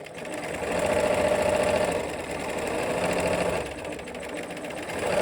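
A sewing machine backstitches from a marked dot, running as a steady close whirring hum with two slight dips in speed, loud and alone without speech.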